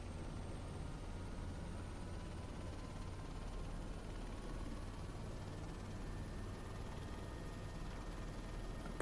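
A helicopter's turbine and rotor in a flight simulator game drone steadily, with a faint rising whine as the rotor spools up, continuous and even, with no talk.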